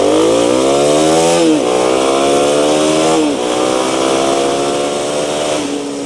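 A Kawasaki KLX300SM supermoto with a 292cc single-cylinder engine accelerates hard from 0 toward 60 on a road, its buzzy engine note climbing steadily through three gears, with brief dips at each shift, loud and close throughout.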